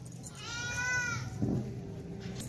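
A Rajanpuri Ablak goat bleats on a goat farm, one wavering drawn-out cry close by, followed by a lower bleat over a steady farmyard background.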